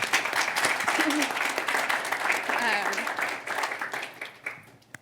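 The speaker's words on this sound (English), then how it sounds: "I have to give a round of applause to that." Audience applause at a conference session on ski areas and climate advocacy, sustained clapping that fades toward the end with voices talking over it.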